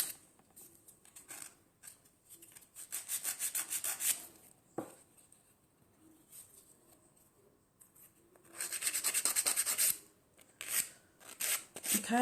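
Coarse-grit sandpaper rubbing over wood while shaping an almond-shaped piece, in bursts of rapid back-and-forth strokes separated by pauses, close and moderately loud with no talking.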